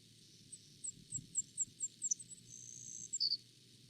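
A Savannah sparrow's song plays as a recording: a run of thin, high, evenly spaced chips, then a buzzy trill ending in two sharp notes, over a steady low rumble of background noise.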